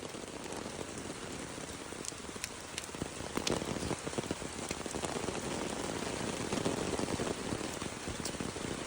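Steady rain pours down at Marihatag Beach Resort, a dense, even hiss of drops striking surfaces that swells slightly louder midway and continues without a break.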